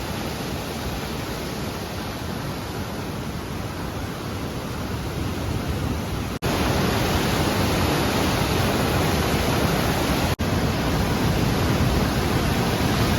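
A monsoon river rushes strongly just below a power house under construction, where water from the Idukki dam joins the flow, making a loud, steady, broadband roar with no voices.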